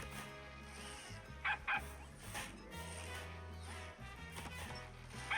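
An exploding cartoon dog trap in the Evil Genius 2 video game yips and barks a few times, short sharp barks over a dense, busy game soundtrack, moderately loud in the mix.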